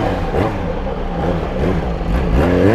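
Yamaha XJ6 motorcycle with its original exhaust revs loudly and continuously up close, engine pitch rising and falling in harmonic sweeps with a steady drone throughout.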